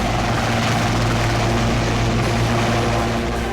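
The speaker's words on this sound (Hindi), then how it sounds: "पायलट ने टेक ऑफ करते हुए हेलीकॉप्टर को आसमान में उड़ा दिया।" A helicopter carrying Maharashtra Chief Minister Devendra Fadnavis lifts off in Latur, its engine and rotor roaring loud and close in a steady, dense drone with no pauses.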